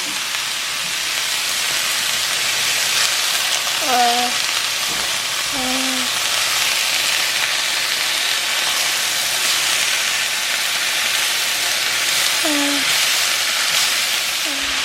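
Jackfruit from cans sautéing in oil in a pot, a steady close sizzle and crackle throughout, with a few brief faint tonal squeaks and no talking.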